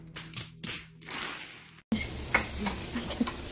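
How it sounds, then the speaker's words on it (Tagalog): Onion and celery green sautéing in oil for sizzling tofu, a faint stirring and scraping at first, then a louder steady sizzle with occasional clinks of a utensil against the pan. "yung first step muna is magigisa muna ng sibuyas and then celery green"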